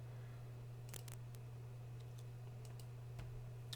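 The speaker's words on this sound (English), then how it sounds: "let's type that in over here" Keys typed on a computer keyboard while entering an Excel formula: a few scattered, faint clicks and short bursts over a steady low electrical hum, with no voices.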